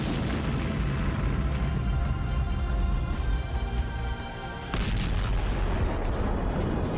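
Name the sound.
tank ammunition exploding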